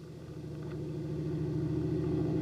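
Plane engines drone as a low, steady rumble across water in the San Juan Islands, holding even and moderately loud for a couple of seconds with no voices.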